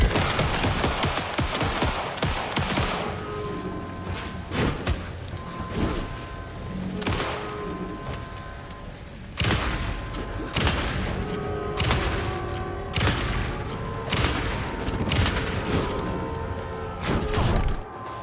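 Rapid gunfire bursts and heavy explosions from rocket and grenade launchers ring out in the video game Alan Wake II, loud and nearly continuous with repeated sharp blasts and rattling fire.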